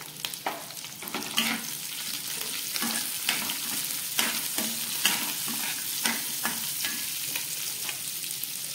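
Green chillies and cumin fry in hot oil in a kadai, giving a steady close sizzle with intermittent scraping taps from stirring and no voices.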